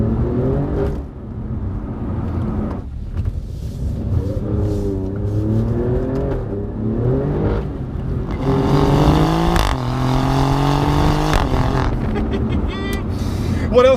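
Alfa Romeo Giulia Quadrifoglio's 2.9-litre twin-turbo V6 heard close and loud, idling then revving and accelerating through several rising pulls and gear changes, with a sharp burst near the end.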